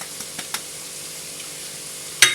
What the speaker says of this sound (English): We're then going to add the shallots and the garlic